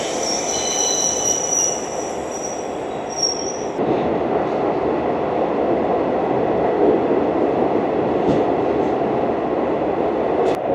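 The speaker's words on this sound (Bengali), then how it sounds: "টানেল থেকে বেরিয়েই আমাদের ট্রেন প্রবেশ করছে সঙ্গলদান স্টেশনে।" A train runs through a tunnel near Sangaldan station on the Jammu–Srinagar line, a steady loud rumble with high wheel squeal at the start, continuous and close throughout without talk.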